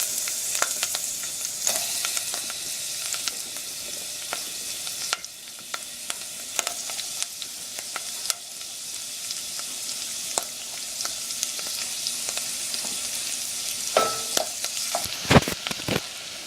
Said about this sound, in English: now we're going to add the mushrooms into the grease here.